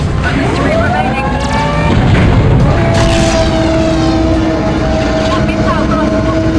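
A missile strikes a station in the 007 Nightfire game's Equinox level, setting off a loud, deep boom that rolls into a sustained humming tone, with a voice speaking over it.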